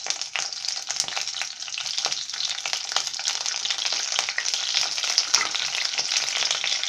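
Chana dal, urad dal, broken cashews and curry leaves crackle and fry in hot oil with a dense, continuous bright sizzle, close and fairly loud, with occasional small pops and faint stirring.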